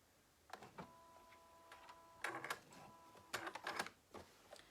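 A home sewing machine stitching men's boxers, including a short run in reverse, makes quiet bursts of rapid mechanical clatter separated by pauses, close and otherwise silent.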